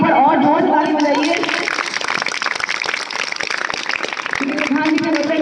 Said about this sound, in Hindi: प्रधान जी के लिए और जोर से ताली बजाइए